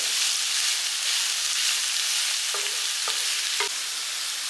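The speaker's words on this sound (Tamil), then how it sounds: "இந்த சுரக்காய் நல்லா வதங்கட்டும் எண்ணெயிலேயே" Bottle gourd sautéing in oil gives a steady, close sizzle throughout, with a few brief stirring scrapes near the end.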